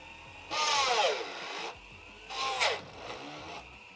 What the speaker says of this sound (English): I'm lining the hole that I'm going to drill up with the smaller hole